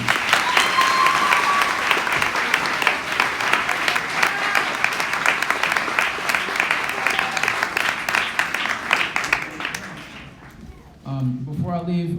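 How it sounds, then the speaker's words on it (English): A crowd applauds an award winner during a live-streamed event, with dense, sustained clapping for about ten seconds before it thins and fades, after which a voice begins speaking. "Can we give her another round of applause?"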